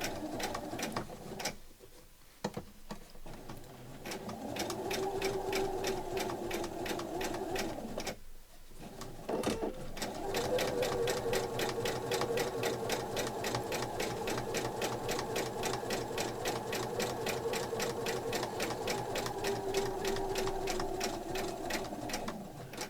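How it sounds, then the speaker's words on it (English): Home sewing machine stitching a fabric coin purse, running in a fast steady whirring rhythm with two short stops early on, while pigeons coo faintly in the background. "I'm going to stitch down this last bit here"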